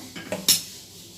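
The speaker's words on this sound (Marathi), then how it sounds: "गॅसवर ही छोटी कढई ठेवून घेऊ घ्यायची आपल्याला" Two or three short metallic clanks as a small wok is set down on a gas stove, the last one loudest, then quiet.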